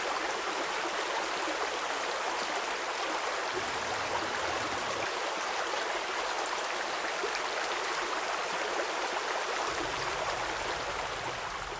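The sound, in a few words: water being thrown onto a house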